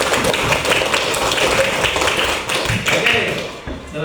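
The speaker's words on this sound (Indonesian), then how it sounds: "Baik, tepuk tangan untuk kita semua." Pupils in an elementary school classroom clap their hands together, rapid, somewhat uneven claps and taps with a few voices mixed in, tapering off near the end.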